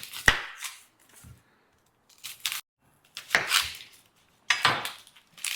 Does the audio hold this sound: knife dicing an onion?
yes